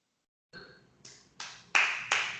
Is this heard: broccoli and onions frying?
no